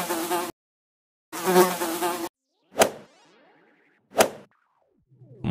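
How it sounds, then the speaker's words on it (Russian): A housefly buzzes in short, sharp bursts close by, its whine starting and stopping several times with quiet gaps and brief snapping sounds between them. "Мухи могут так быстро махать крыльями,"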